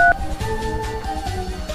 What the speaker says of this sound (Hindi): भाई के पास फोन लगा, भाई क्या कहते हैं?